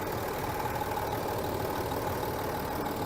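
A 2008 Range Rover Sport with a 2.7-litre turbocharged V6 diesel ticks over at idle, a steady, even low rumble with a faint mechanical hum, held close and unbroken with no voices.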